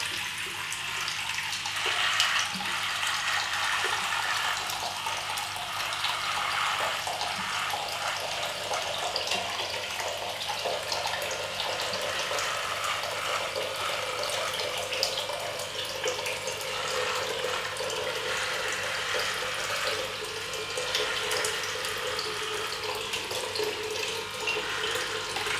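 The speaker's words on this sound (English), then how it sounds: "I'll just run the basin here so we get some hot water for the shave" Hot water running steadily from a bathroom basin tap as the sink fills before a shave: a continuous, even hiss and splash for the whole stretch, with no one talking.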